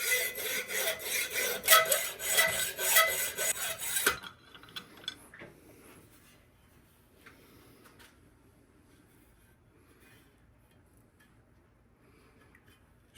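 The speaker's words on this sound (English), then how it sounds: "So let's cut these pins off. Using my hacksaw rather than the grinder." A hacksaw cuts through steel pins on a hog splitter being restored, giving about four seconds of rapid, rasping back-and-forth strokes up close, then faint scattered scrapes and taps.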